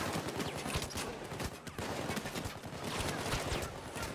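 Gunfire in the Payday 2 video game on Death Wish difficulty with bot teammates: a fairly quiet, dense, continuous crackle of overlapping shots with a rapid, sustained rhythm.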